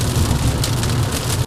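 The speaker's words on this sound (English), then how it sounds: "We're just getting bombarded with the rain." Heavy rain pounds steadily on a car driving slowly with hazards on, a dense, loud wash of drumming drops over a low road rumble, with no voices.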